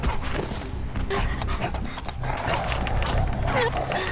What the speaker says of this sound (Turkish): Köpek beni yiyecek Allah aşkına.